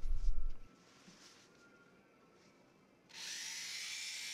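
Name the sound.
rotary tool with sandpaper polishing guitar frets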